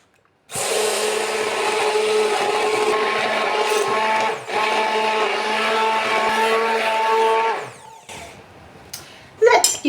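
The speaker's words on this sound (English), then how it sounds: "give it a blend with your blender" A blender purées spicy pumpkin soup with silken tofu and date molasses, a loud, steady whirring drone lasting several seconds before it cuts out, followed by a few clattering knocks.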